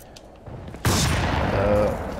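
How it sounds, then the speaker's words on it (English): Gunfire erupts in Crysis 2 Remastered on Xbox Series X: after quiet ambience, a sudden loud burst of shots slams in and a rattling barrage keeps going close by, dense and sustained to the end. "Who the fuck just shot at me?"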